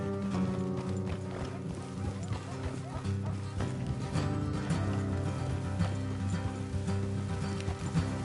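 Horse hooves clip-clop in the Red Dead Redemption 2 video game as riders travel off the road, a steady rhythmic trot under a dense bed of music and game ambience, with voices talking over it.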